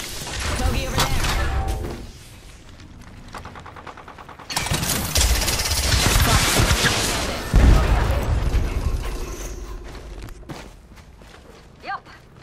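Rapid automatic gunfire crackles in Apex Legends, in dense loud bursts with sharp impacts across the scene, mixed with game effects and footsteps.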